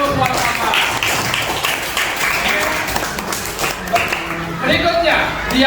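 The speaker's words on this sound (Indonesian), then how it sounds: "Tepuk tangan dulu buat Bapak." A classroom of pupils clapping hands during a coaching lesson, a brisk burst of clapping with children's voices mixed in and talk running over it.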